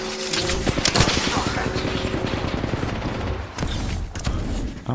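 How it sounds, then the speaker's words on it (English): Rapid gunfire in the battle royale game Apex Legends, bursts of automatic shots cracking close and loud in quick succession over a busy firefight, with players talking over it. "They're shooting at me"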